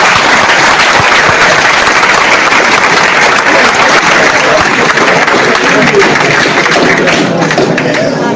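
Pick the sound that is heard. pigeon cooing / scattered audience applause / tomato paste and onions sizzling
scattered audience applause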